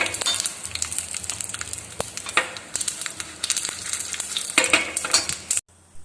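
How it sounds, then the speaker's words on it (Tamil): Dry red chilies roast in hot oil in a pan for a spicy side dish, giving a steady crackling sizzle with scattered utensil clinks and scrapes that cuts off abruptly near the end. "காஞ்ச மிளகாவும் நல்லா வறுபடட்டும்."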